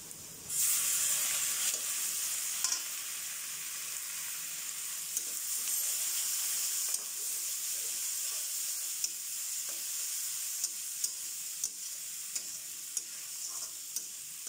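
Chopped tomatoes tossed into softened onions frying in a pan for Kerala kothu porotta: a loud, steady sizzle rises suddenly and continues close up, broken by occasional light stirring clicks, with no talk.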